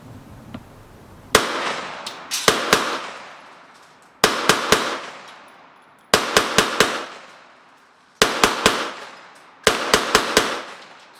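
KelTec PMR30 .22 Magnum pistol fired outdoors in six quick bursts of three to four sharp cracks each, loud and close, with short pauses between groups and brief echoing decays.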